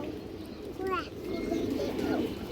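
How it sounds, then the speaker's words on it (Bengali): Black jhak pigeon with stone eyes cooing softly amid a voice speaking over it, a short burst of coos standing out near the middle. "এটা হচ্ছে কালো ঝাঁক কবুতার পাথর চোখের কালো ঝাঁক"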